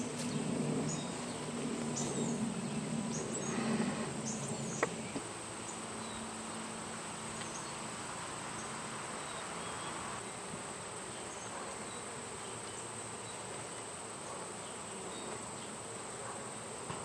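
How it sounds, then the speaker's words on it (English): Honey bees swarm and buzz around an open hive as full frames of honey and syrup comb are pulled for extraction, a steady dense hum close by that carries through the whole stretch with a few faint knocks early on. "Push some of these bees off."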